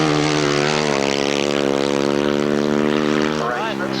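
Speedway motorcycle with an upright engine on a flying lap, screaming loud and close with a steady high-revving harmonic drone that shifts in pitch as it comes off a bend, with a commentator talking over it.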